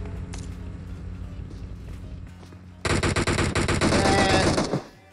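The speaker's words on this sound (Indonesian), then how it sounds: "Dibalas tembakan lagi oleh tim 3." Rapid automatic video game gunfire during an esports tournament match bursts out loud and close after a quieter stretch, a sustained rattling volley of shots that cuts off abruptly.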